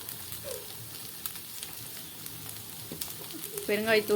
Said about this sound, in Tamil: இப்போ எல்லா மசாலாவும் போட்டு நல்லா வதக்கியாச்சு